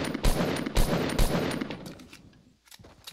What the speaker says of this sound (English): so I'm gonna shoot down his walls.